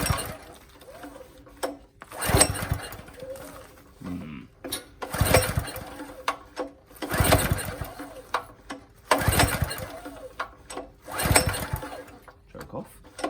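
An auction-bought hydraulic power pack engine is cranked repeatedly, with several rhythmic pull-start bursts that sputter briefly without settling into a steady run, while a person talks in between attempts.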